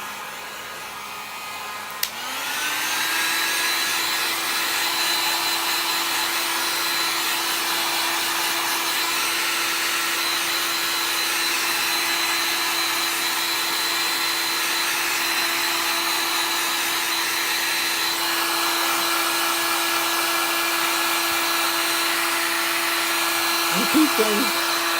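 A hair dryer runs close and steady on freshly applied thick chalk paint, starting up in the first seconds and holding a constant loud whir to the end.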